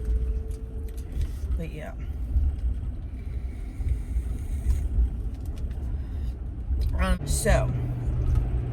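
A car driving on the road, heard from inside the cabin as a steady low engine and road rumble throughout, with a person talking briefly over it.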